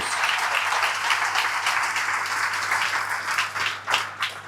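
A crowd applauds steadily at a company meeting, dense clapping filling the room at a constant level, tapering into a few scattered claps near the end.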